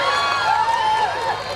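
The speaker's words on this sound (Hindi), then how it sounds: "एक बार इनके लिए जोरदार तालियां" A stand-up comedy crowd at a literary festival cheers and whoops, with a high whistling cry sliding over a dense wash of crowd noise and clapping.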